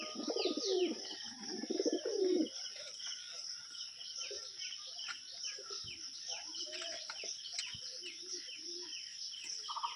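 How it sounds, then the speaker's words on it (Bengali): Pigeons coo in a short, low, throaty burst near a home loft, then fall quiet, while a steady high chirring of insects continues faintly throughout. "টোটাল 23টা পায়রা আছে।"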